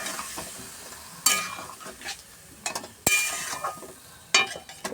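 Masala being sautéed in a pan, soft sizzling broken by several sharp scrapes and clinks of a spatula stirring against the metal, close and without speech.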